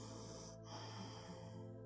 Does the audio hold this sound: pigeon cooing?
no